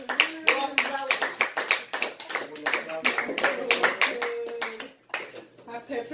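Family members clap their hands in quick, uneven bursts at a home birthday celebration, close and lively, while adults and someone talk and call out over the clapping, which pauses briefly near the end.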